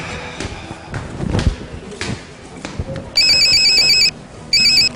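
After some clattering thumps, a phone rings with an electronic trilling tone, two bursts separated by a short pause, clear and near.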